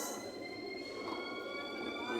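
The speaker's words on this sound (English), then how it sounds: "The train arrived right now." Train standing at a German station with a steady tonal door-warning signal held over a hum of platform and rail noise; a voice talks faintly beneath it.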